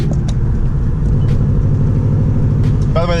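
Interior of a car fitted with a Cobb short throw shifter out on a test drive, a steady low engine and road rumble throughout, with faint distant voices.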